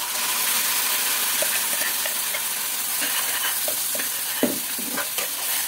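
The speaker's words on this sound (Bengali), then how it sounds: "এবার যে মশলাটা মিক্সিতে করেছিলাম সেই মশলাটা দিয়ে দেবো" Ground spice paste sautéing in a pan while cooking an egg dish, a steady close hiss and sizzle with occasional stirring knocks and scrapes throughout.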